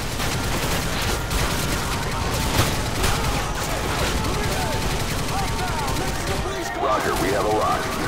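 Dense, continuous gunfire from Modern Warfare 2 gameplay, rapid automatic bursts and shots rolling on without pause alongside radio-style voice callouts, loud and busy throughout.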